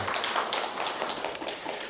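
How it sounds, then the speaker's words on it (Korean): Congregation at a church service in Vancouver applauding to welcome a guest pastor and his wife, a steady dense patter of many hands clapping throughout, fairly distant and even in level. "우리 큰 박수로 환영하겠습니다"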